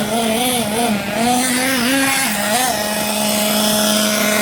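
A 1/8-scale nitro RC buggy engine runs steadily and loudly up close, its buzzing whine wavering in pitch as the throttle is blipped, then settling into a constant high drone.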